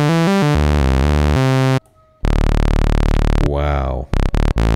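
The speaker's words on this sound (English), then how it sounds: "Let's listen to the full range of the sawtooth wave while we're at it." Sawtooth wave on a Tom Oberheim Two Voice Pro synthesizer, stepping through its full pitch range in loud, harsh, buzzy held notes with a brief gap and a sweeping glide near the end.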